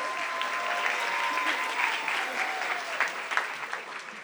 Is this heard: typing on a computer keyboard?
no